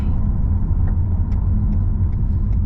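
A car drives along a hilly countryside road in Yorkshire, England, with a steady close low engine rumble and road noise and faint ticking above it.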